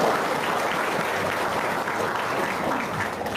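Audience applause fills the room, a steady, dense clapping from a crowd that stays loud and even throughout with no talk over it.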